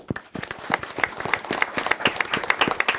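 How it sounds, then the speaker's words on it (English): A small audience at a county board of commissioners meeting claps for an employee recognition, sparse hand claps building into a brisk, steady round of applause lasting a few seconds. "Again, a round of applause."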